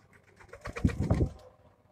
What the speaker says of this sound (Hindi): देखे जी माशाल्लाह कबूतर